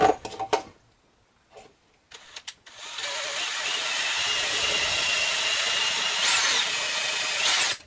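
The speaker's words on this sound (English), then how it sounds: "we drill through both of these." A power drill bores through aluminum on an officer belt box build, a steady whine after a few short taps, growing louder and sustained for several seconds, close up with no talk.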